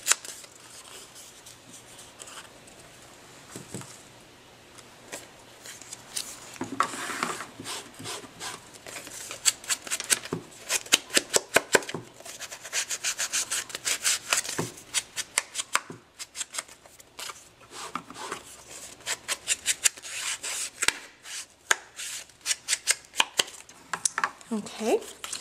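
Paper is torn and sponged with ink while making a card, giving intermittent close rustles, rips and quick scratchy dabbing strokes in irregular bursts, growing busier toward the end, with no speech.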